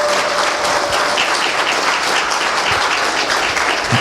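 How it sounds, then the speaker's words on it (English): Steady, dense audience applause fills the room for a guest introduced at a lecture, many hands clapping continuously and evenly at full strength with no talk over it. "Give her a big round of applause."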